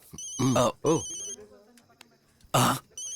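A telephone rings in bright electronic bursts, loud and close, broken up by someone speaking and a cough between the rings.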